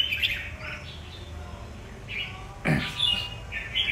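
A red-whiskered bulbul gives bright, chirpy song phrases in several short bursts, close by, with a sharper louder call near the end against quiet outdoor background.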